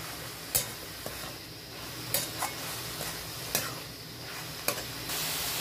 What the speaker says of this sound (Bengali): নুনটা দিয়ে দিয়েছি, এবার ভালো করে ভেজে নেবো।